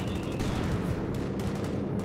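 A Company of Heroes 2 battle gives a mortar shell blast and gunfire, heard as a dense, loud, continuous rumble with crackling shots.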